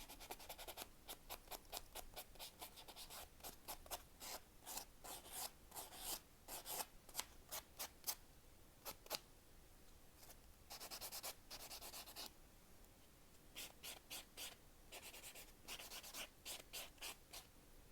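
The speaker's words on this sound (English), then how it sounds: "I buff them out a little bit before I paint them" Fingernails buffed with a nail buffer before painting, quiet close rapid rubbing strokes in short bursts separated by pauses, soft and intimate with no voice over them.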